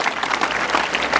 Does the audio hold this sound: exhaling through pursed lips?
no